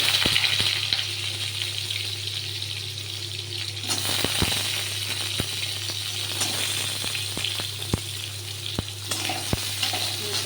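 Chopped bottle gourd going into hot oil with fried tempering spices, a strong continuous sizzle punctuated by sharp clicks and scrapes of a utensil against the pan.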